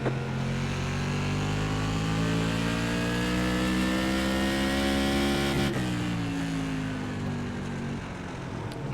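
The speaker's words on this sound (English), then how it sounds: "We still got 24 cars out on track." Tour Modified race cars lap the Stafford Speedway oval in iRacing, with one engine's loud sustained drone rising in pitch, briefly dropping with a shift or lift, then carrying on near and steady.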